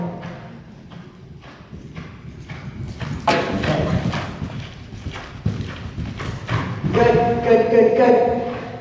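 A ridden horse's hooves clip-clop during a British Horse Society training session, rhythmic thuds growing louder and nearer over several strides, with people talking over them.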